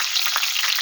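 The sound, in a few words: frying manti dumplings in a pan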